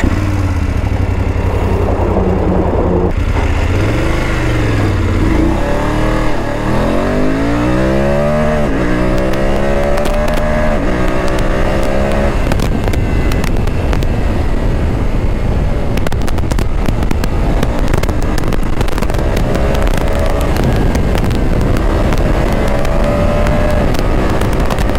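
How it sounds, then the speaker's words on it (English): A BMW F850GS Adventure motorcycle in dynamic mode accelerates at full power, its engine roaring loud and close as the pitch repeatedly climbs through the gears, with heavy wind rush throughout. "Full power of the BMW F850GS. The engine actually screams like anything."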